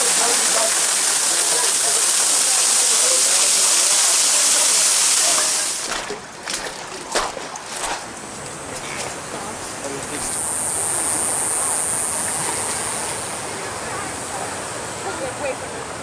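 Waterfall at Deer Creek Falls in the Grand Canyon, a steady broad roar of falling water that holds near and loud throughout, with some brief clattering knocks in the middle.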